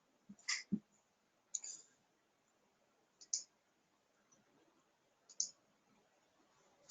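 Computer mouse clicks in a hospital software training session, four sharp isolated clicks spaced a second or two apart, close and fairly quiet, with no talking.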